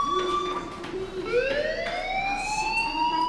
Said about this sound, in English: do you hear that fire alarm? That means you should be outside.